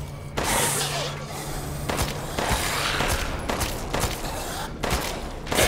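Rapid bursts of gunfire ring out in Resident Evil Village inside Heisenberg's factory, several loud volleys and single shots in close succession filling the whole stretch with sharp, echoing cracks.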